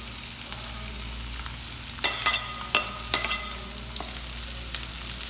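Garlic and ginger frying in a pan as the next ingredients added, giving a steady close sizzle with a few sharper crackles and stirring scrapes partway through, no voices.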